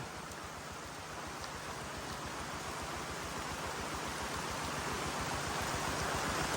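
Steady rain falling over open rice fields in the Thai countryside, a constant even hiss with no breaks and no voices.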